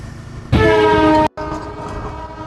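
A train passing near Sevoke sounds a loud, sustained horn blast that cuts off abruptly, followed by the rumble and clatter of the moving cars close by.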